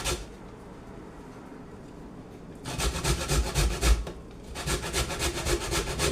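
A potato is grated on a hand grater in rapid rhythmic rasping strokes, starting after a quiet pause and continuing in two close bursts with a brief break between.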